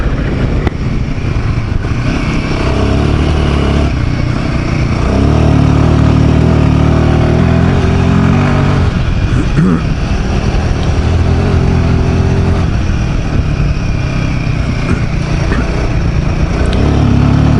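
A Royal Enfield Himalayan 450 motorcycle rides over a corrugated road, its steady engine drone loud and continuous, with rough, rattling wind and road noise rising and falling across the run.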